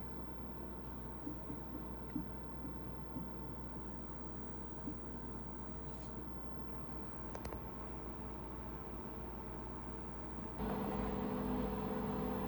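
Steady low fan hum from a Victron Energy MultiPlus II GX 48/500 inverter, with a broadband whir that grows louder and brighter near the end as cooling kicks in around 1.8-2 kW load.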